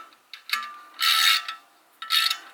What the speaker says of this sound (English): Just use the head of the ratchet.